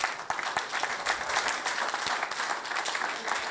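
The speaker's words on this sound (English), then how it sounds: "I ask that your clap be even louder this time." Audience at a Ghana engineering institution event breaking into steady, sustained applause, dense clapping filling the room without pause.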